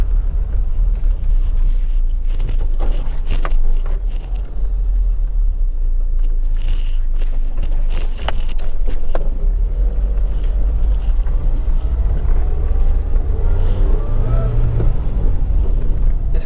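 A petrol 2009 Renault Logan 1.4 car idles with a steady low rumble and then pulls away, a continuous engine hum with faint mechanical clicks, recorded close from inside the cabin with no talking.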